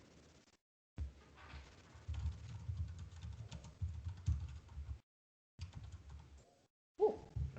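Rapid typing on a computer keyboard during a head-to-head typing game, continuous clicky keystrokes in several stretches broken by brief silent gaps, close and moderately quiet.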